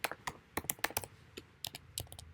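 Quiet, quick clicks of fingers typing on a computer keyboard, entering a password in irregular bursts with a short pause midway, close and alone.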